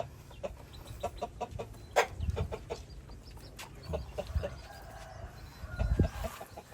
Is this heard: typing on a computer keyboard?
no